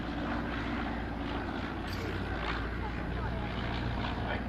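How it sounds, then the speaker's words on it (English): Piper Cub light aeroplane with a 65 horsepower engine flying at an evening air display, a steady broadband engine drone heard at a distance without any clear rise or fade. "Very quiet, gentle aeroplane."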